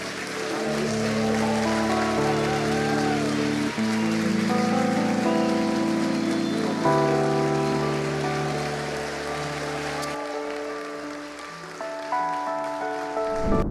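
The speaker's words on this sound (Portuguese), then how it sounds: "E uma grande salva de palmas" A large crowd delivers a big, sustained round of applause at a public event, a dense rain-like wash of clapping layered over sustained musical tones that thins out toward the end.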